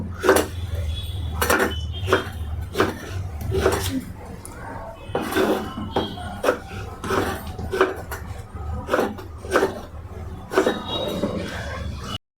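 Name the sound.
cutting tomatoes with a knife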